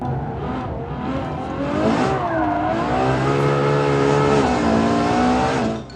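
Ferrari 812 Superfast V12 accelerating hard, a loud, close engine note climbing through the revs with layered harmonics, dipping briefly and rising again as the rear steps slightly out of line on corner exit, no voices over it.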